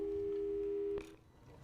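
A single steady electronic telephone tone from the Portal 2 video game holds for about a second, then cuts off with a soft click, leaving quiet background.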